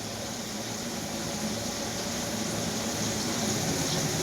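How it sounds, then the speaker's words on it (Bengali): A kitchen chimney exhaust hood running gives a steady broadband whooshing hum of fan and airflow, close and constant throughout with no talk. "চিমনি চলছে, চিমনির আওয়াজ"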